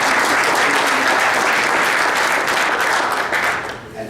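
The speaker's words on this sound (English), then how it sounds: "So again, let's give them a round of applause." An audience applauds at a sports press conference, dense continuous clapping that holds steady and then begins to taper off at the end, with no talking.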